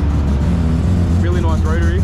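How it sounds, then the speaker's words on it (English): A rotary-engined car drives out of a large JDM and muscle car meet, its engine producing a loud, close, buzzing drone with a quick rising rev near the end, while someone talks over it. "Really nice rotary."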